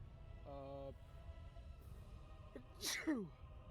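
A single quick sneeze bursts out close by, briefly loud against a quiet, faintly noisy room, with a short voiced sound just before it.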